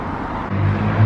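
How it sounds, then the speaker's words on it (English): Cars roll past on a street near Allentown as a brief, close whoosh of tires and engine that swells toward the end, with no talking. "As some cars roll by"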